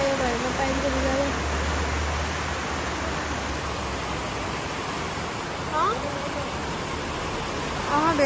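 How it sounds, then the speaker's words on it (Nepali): Heavy rain pours down in a steady, dense hiss that fills the whole scene, with a voice and brief chirps or calls over it early on. "कति ठुलो पानी परेको"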